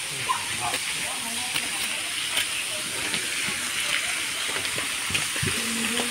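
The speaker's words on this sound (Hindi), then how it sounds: "छोटिया झरना" Small waterfall near Budhakhol Temple, a steady broad hiss of falling water heard continuously and evenly, with faint indistinct voices in the background.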